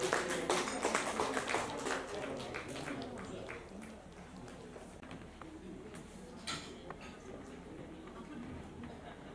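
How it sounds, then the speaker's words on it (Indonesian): Audience at a batik event in a clubhouse giving a guest a round of applause, a flurry of claps that is strongest at the start and thins out gradually, with some murmuring underneath. "marilah beri tepuk tangan yang meriah"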